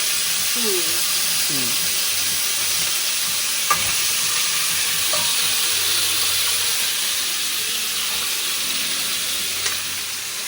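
Chicken shallow-fries in a pan with a continuous, even hiss of oil. A few faint clicks and low murmured voices sit underneath it.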